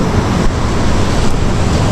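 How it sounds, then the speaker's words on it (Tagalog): Big sea waves off the Palawan coast make a loud, continuous rushing roar with no clear breaks, close by and alone. "Ang lalaki ng alon."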